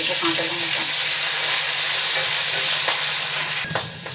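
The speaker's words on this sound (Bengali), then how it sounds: "দিয়ে দেবো কাঁচা লঙ্কা" Green chilies and five-spice seeds frying in a little oil, a loud steady sizzle with occasional stirring scrapes and a sharp clank near the end.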